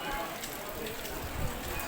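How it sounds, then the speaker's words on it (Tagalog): Heavy afternoon rain pours steadily at Casa Peregrine in the mountains, a dense, even wash of noise that holds at the same loudness throughout with no pauses. "Ayan, lakas na ng ulan."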